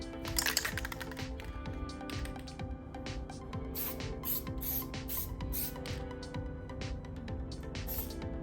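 Plasti Dip is sprayed onto a Tesla Model 3 emblem in a third coat: a close, hissing spray in repeated short bursts with clicks and rattles between them.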